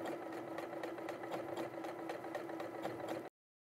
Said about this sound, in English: I'm now stitching across the front crease where I made that little snip